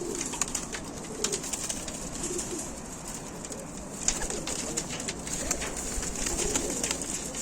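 Ukrainian high-flying pigeons of mixed colours, yellow, black, blue and chocolate, coo in a loft, a steady low murmuring chorus with scattered fluttering and clicks throughout.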